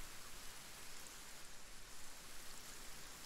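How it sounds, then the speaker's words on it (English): Steady, soft rainfall in the video game Kenshi hisses evenly throughout, a continuous wash of drops with no voices or other sounds on top. "it's raining. I like the sounds in the game."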